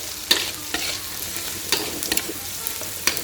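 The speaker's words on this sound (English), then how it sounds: "So these chili flakes and onions, you have to stir fry them until they are slightly brown." Chili flakes and onions stir-fried in a pan for amatriciana pasta, a steady close sizzle broken by several sharp scraping stirs of the spatula.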